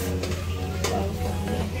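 Onions fry and brown in a pot for chicken biryani, giving a steady close sizzle under a low hum, broken by a few sharp scraping stirs.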